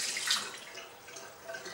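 Lemon water poured into a sink, a steady splashing trickle of liquid running into the basin, close and fairly quiet throughout.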